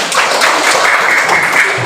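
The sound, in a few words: classroom clapping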